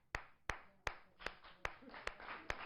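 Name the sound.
audience clapping hands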